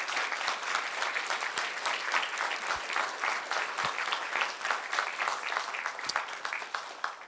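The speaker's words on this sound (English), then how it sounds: "Let's all give one big final round of applause for our debaters." Audience applause for debaters at a live debate event in Tennessee, a dense, sustained clapping from a large crowd that stays loud and steady throughout with no talk over it.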